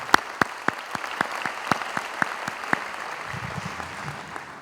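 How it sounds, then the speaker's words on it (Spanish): A sparse round of applause at an event honouring a ministry team: a handful of distinct, sharp hand claps at an uneven pace that thin out and fade after a few seconds, with faint murmuring underneath. "Realmente, sí, se merecen el mayor de los aplausos."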